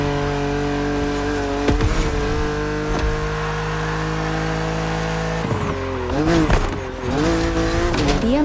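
A BMW Z roadster races in The Crew Motorfest with a loud sustained engine drone, rising and falling through gear shifts, and brief revving swells with tire squeal.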